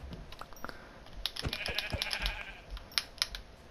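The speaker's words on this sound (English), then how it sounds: "They're like mountain goats up here, these sheep." Minecraft sheep on a mountainside bleating in several short, nasal calls close by, mixed with light clicking taps.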